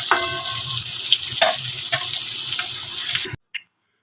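Potatoes and pointed gourd frying in a pan, a loud steady sizzle with occasional stirring scrapes that cuts off abruptly near the end.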